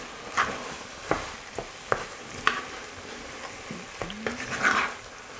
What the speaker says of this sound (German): Wenn es anfängt zu knistern, kommt wieder Flüssigkeit dazu.